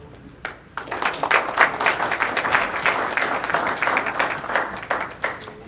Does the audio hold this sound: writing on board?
no